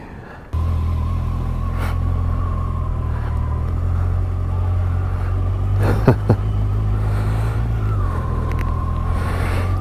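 The engine of a 2017 Kawasaki Versys 1000 motorcycle starts and settles into a steady, deep idle rumble, loud and close, with a couple of brief knocks partway through.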